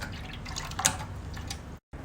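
Water flowing out of the tube of a BR314 CO2 machine, a soft, faint trickle with a single brighter drip near the middle, then a brief cut to silence; no talk.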